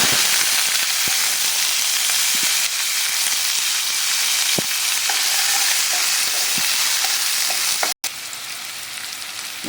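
Ridge gourd and onion sauté in a pan with a continuous hissing sizzle, broken by scattered stirring clicks and a brief cut near the end.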